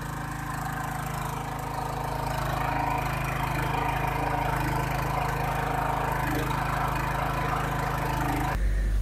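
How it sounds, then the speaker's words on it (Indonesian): A blender machine working steamed lanting dough, cassava snack dough from Kebumen, giving a steady loud motor drone that holds level and ends in a sharp thump. "Bahan baku yang sudah dikukus, lalu dimasukkan ke dalam mesin blender yang menghasilkan bentuk menjadi seperti kacang panjang."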